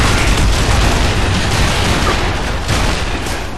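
Shotgun fire in the Gears of War video game: a dense, loud barrage of blasts and booms running continuously through the short stretch, with no speech.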